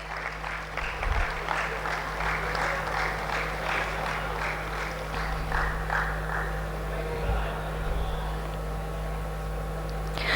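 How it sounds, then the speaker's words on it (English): Steady applause from an audience filling a grand hall at a felicitation ceremony, a continuous even patter with a low electrical hum beneath it. "Huge round of applause, ladies and gentlemen."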